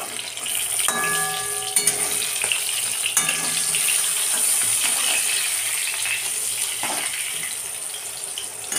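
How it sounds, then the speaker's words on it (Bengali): Brinjal slices fry in a pan with a steady, close sizzle and hiss that runs throughout, broken by a couple of light clinks. "বেগুনগুলো ভাজা হচ্ছে"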